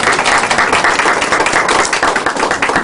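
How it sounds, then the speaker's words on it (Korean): Audience at a childcare policy event claps steadily, a dense, loud round of applause filling the room without pause and without talk over it. "자리를 박수 한번 보내드리죠."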